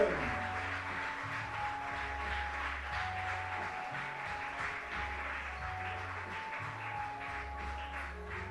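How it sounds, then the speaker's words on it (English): Quiet applause at a 10m prone air rifle shooting final, with soft scattered clapping over a background of rhythmic low music, fairly faint and continuous. "So give him a quiet round of applause for the new world record holder"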